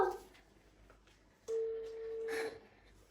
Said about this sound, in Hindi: हम लोग डॉक्टर वाइट को फोन कर रहे हैं